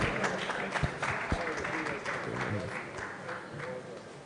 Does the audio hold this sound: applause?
yes